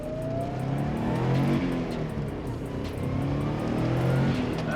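A 217,000-kilometre first-generation Subaru Impreza WRX STI accelerating hard, its engine revving up through surging pulls with a brief shift dip, heard loud and steady from nearby with no talking.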